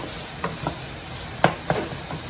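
Vegetables caramelize in a pot for a gluten-free beef stew, giving a soft, steady sizzle broken by several short scraping stirs.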